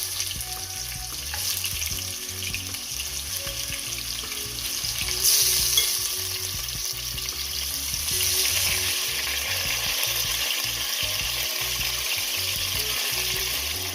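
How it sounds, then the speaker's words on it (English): Mutton sizzles and fries steadily in a pot for brown stew, a dense, loud crackle with low hum beneath and occasional bursts of stronger spitting, no voices. "I'm going to place my mutton in the pot, allow it to stir for at least 5 minutes"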